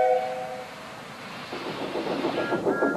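Thomas the Tank Engine steam train running: a whistle sounds first, then the rhythmic chuffing and clatter of the engine builds steadily and draws nearer.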